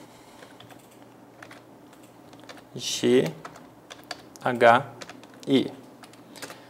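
Light clicks of typing on a computer keyboard, ending in a keypress for Enter, tap along quietly in the background while a person speaks in short bursts.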